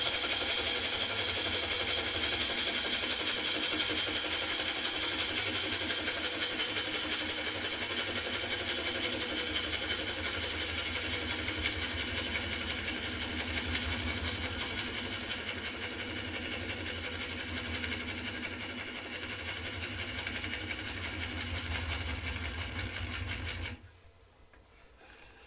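A wood gouge, growing slightly blunt, cuts a sycamore blank turning slowly on a lathe, making a steady, close, continuous mechanical whir that stops abruptly near the end.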